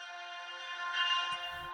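Sustained synth texture from a sample bank called Atom, used as a layer for drill beats: a steady, bright tonal pad that swells slightly, ending with a soft low thump, with no voices.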